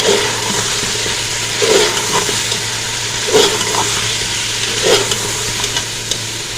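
Turmeric being stirred into mutton in a pot, a close, steady hissing scrape with a few louder sweeps every second or so, no voices.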